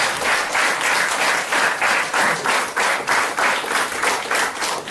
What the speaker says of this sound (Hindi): एक बार डॉक्टर सवेरा सर को जोरदार ताली।